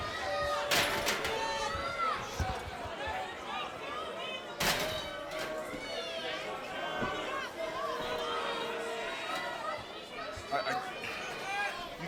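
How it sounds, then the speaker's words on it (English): A wrestling arena crowd sits hushed and watching, a low murmur of chatter spread through the hall with scattered thuds and shuffles, while a voice talks over it. "You just feel this hush over the crowd right now."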